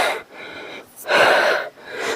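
Heavy, labored breathing from a hiker trekking up Kumara Parvatha: three strong gasping breaths close to the microphone, separated by brief pauses.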